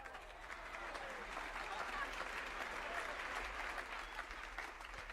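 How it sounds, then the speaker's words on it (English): A live audience gives a round of applause, a steady wash of many hands clapping at a fairly faint, distant level, sustained evenly throughout with a crowd murmur underneath. "Let's give a big round of applause to Bobby Barrett Jr."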